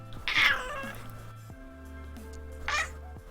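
A cat meows twice, two loud drawn-out calls separated by a pause, close to the microphone over a faint low hum.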